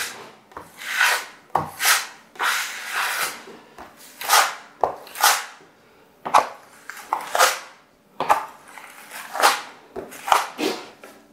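A trowel rubs plaster across a wall in repeated strokes one way and then the other, a rhythmic scraping swish close by with short pauses between passes.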